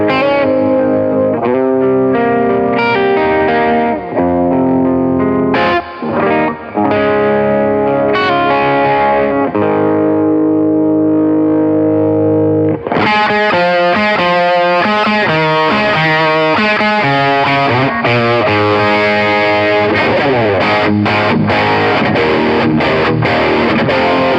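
Electric guitar through a Peavey Classic 30 tube amp at about half volume, loud and close, with a driven, slightly distorted tone; sustained chords and single notes ring out, then busier chord strumming in the second half.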